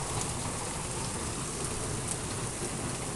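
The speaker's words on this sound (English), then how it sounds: "Here comes some hail." Hail and heavy rain pour down in a severe storm, a dense, continuous hissing patter of drops striking surfaces, loud and steady throughout.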